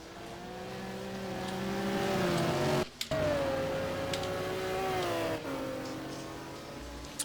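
A Saleen SR7 race car at Le Mans in a racing game, its engine whining and revving hard and steady, with a sharp gearshift dip partway through, then climbing again as it pulls away.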